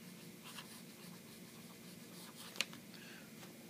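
Pen nib scratching across smooth Tomoe River paper in soft, faint strokes, with one brief louder tick partway through, with no talk.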